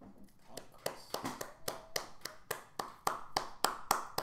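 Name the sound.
hands clapping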